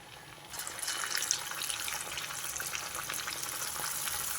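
Corn and jaggery vada (garelu) dough fries in hot oil; after a quieter half-second start, a bright crackling sizzle swells and continues steadily with fine popping bubbles.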